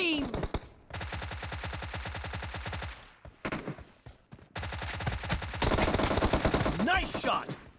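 Automatic gunfire in a team-based shooter video game comes in loud, rapid bursts separated by short gaps, with later volleys denser and overlapping other game effects.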